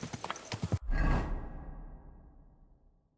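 In Kingdom Come: Deliverance II, a few quick horse hoof clops lead into a loud rushing whoosh as the horse sets off, fading away gradually into quiet.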